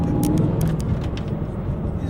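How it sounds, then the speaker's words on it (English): Street traffic in Bethnal Green, London, with cars passing nearby in a steady engine rumble and a few brief higher swishes, while people talk over it. "You know, cars all over the place."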